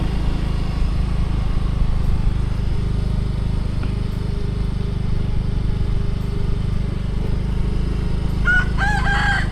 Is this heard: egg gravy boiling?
no